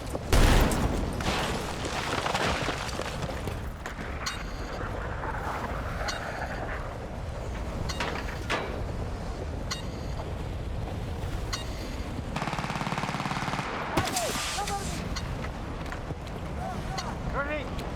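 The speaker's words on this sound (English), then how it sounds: "Hostile machine gun." Dense, sustained gunfire and explosions from the Battlefield RedSec video game, with machine gun bursts layered over wind and rumbling booms throughout, loud and continuous with a voice speaking at points.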